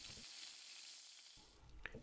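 Coarse fresh bratwurst sizzles while frying in a kazan, a soft steady hiss close by, briefly dipping before a light clink of the pan near the end.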